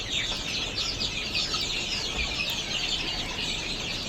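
Chickens on a farm cluck and chatter continuously, a dense, fairly faint flock sound with no voices over it.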